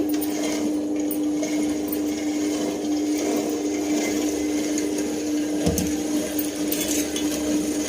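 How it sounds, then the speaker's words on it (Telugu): A two-stone wet grinder works urad dal and rice into dosa batter with a constant motor hum and a low rumbling grind, steady and close throughout, with no talking. "రెండు రాళ్ళదండి గ్రైండర్ నాది, బాగా మెత్తగా మెదిగిద్ది."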